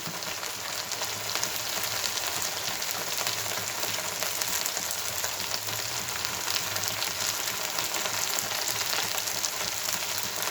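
Green chillies and curry leaves frying in hot oil over high flame, a dense, continuous crackling sizzle that holds steady and close throughout, with no talking.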